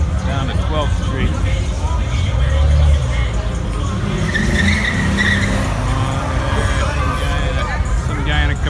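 A Chevrolet Camaro skids its tires on a busy South Beach Miami street during spring break at night, a loud drawn-out squeal and engine roar amid crowd babble and nearby voices.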